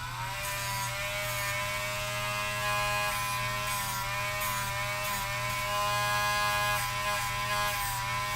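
Dremel rotary tool shaving down a peg, a steady high buzzing whine held for the whole stretch, close and continuous, with faint grinding flutters as it bites.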